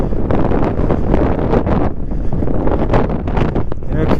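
Strong wind buffeting the microphone outdoors on a 10-degree day in Morocco, a loud continuous rumble and roar with gusty pulses throughout.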